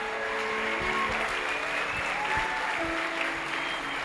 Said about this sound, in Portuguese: diga glória a Deus e aplauda Ele o mais alto que você puder